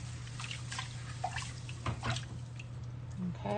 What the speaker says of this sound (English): we need to rinse this out until it's almost clear